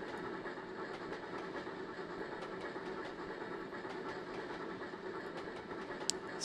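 A train runs in the Trainz Simulator video game on the Murchison 2 route, a steady rolling rumble with faint repeated clicks from the rails, even and unbroken for the whole stretch with no talk.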